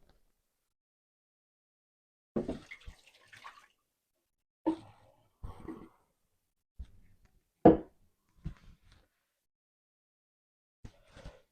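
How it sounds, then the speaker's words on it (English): Water is dumped out of a reverse osmosis filter housing from a 5-stage iSpring system, a series of short splashing pours and drips in an otherwise quiet room, with gaps between bursts. "I'm going to dump the water out."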